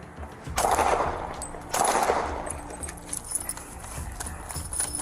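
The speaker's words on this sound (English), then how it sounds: "gunshots rang out from the house across the street" Several sharp gunshots fire from a house across a street, heard as loud, echoing bursts with a scattered rattle of shots trailing off outdoors.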